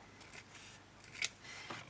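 Hand scissors cut through fabric for a journal cover in a quiet room, a few soft snips and slides spaced out, with one sharper, clearer snip standing out in the middle.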